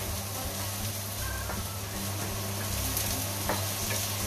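Liver and onions fry in hot oil on a stovetop turned down to medium as they are stirred, producing a dense, steady close-up sizzle with light scraping.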